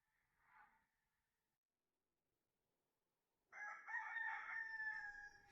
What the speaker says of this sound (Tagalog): Saan galing ang tunog ng manok?